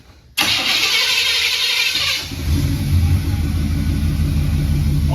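A 1976 4x4 camper van engine with a freshly fitted exhaust cranks briefly, then catches and settles into a loud, steady rumbling idle close by, with no talking.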